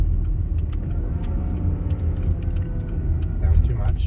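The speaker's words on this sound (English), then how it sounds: "So this car luckily can downshift." A car driving on a snowy road at night, its engine note shifting as it downshifts, with a steady low rumble and road noise throughout, growing slightly louder near the end; people talk over it.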